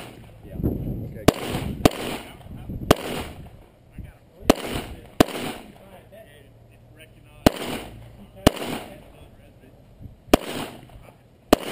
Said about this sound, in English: We're having this shotgun match.